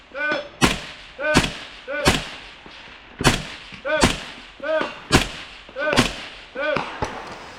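Rifle shots at a team shooting match at The Sawmill ring out one after another in a steady string of about eleven sharp, loud cracks, each followed by a short echoing tail.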